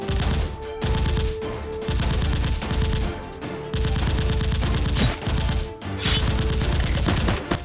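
Gunfire sound effects in a Nerf gun fight, loud rapid bursts of automatic fire repeating in several long volleys with brief gaps between them, close and dominant.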